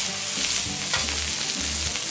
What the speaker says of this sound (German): Drehen, wenden, brutzeln, braten.